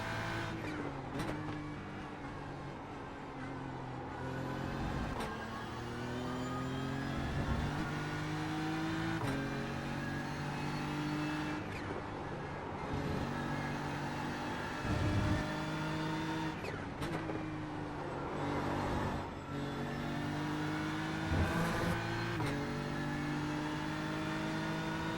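GT3 race cars at Watkins Glen in a racing video game, engines screaming and rising through gears with sharp shift breaks, other cars roaring close by and occasional tire squeal, loud and continuous.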